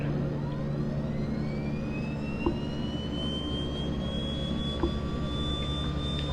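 A Wideroe Twin Otter turboprop spools up for engine start, its rising whine climbing steadily over a constant low engine drone, loud and close, with a couple of faint clicks and no talk.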